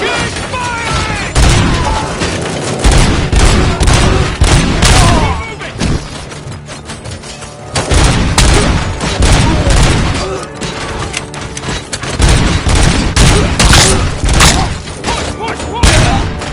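Heavy continuous gunfire in the video game Robocop Rogue City, dense volleys, booms and thuds in a loud firefight with brief dips, voices shouting faintly beneath the shooting.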